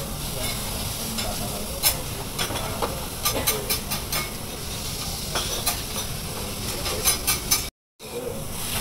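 Okonomiyaki sizzles and hisses steadily on a hot teppan griddle in a Hiroshima eatery, with scraping and tapping of spatulas as it is flipped, close and continuous.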